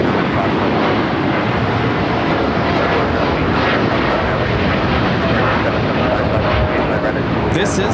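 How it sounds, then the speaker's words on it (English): American Airlines Boeing 787-8 Dreamliner taking off at LAX, a loud continuous jet roar close by with broad rumble throughout. "This is American Airlines Flight 27 taking off to Tokyo, Haneda on the 787-8 Dreamliner"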